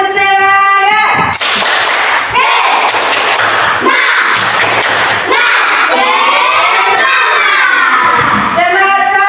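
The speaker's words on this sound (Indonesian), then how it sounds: "Ayo kita tepuk semangat dulu" Children in an Indonesian classroom do a rhythmic clapping chant, sharp hand claps in patterned bursts mixed with loud shouted voices, close and energetic throughout.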